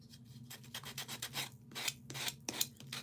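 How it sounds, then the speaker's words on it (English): A craft piece sanded by hand, with a quick series of close, dry rasping strokes in an irregular rhythm, each scrape a short bright burst with brief pauses between them. "We are going to sand them a little bit here"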